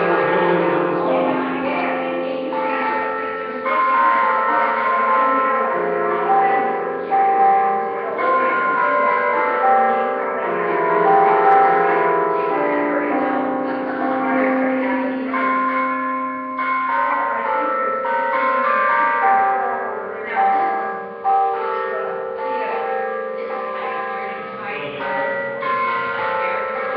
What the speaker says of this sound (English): These freaking bells are loud.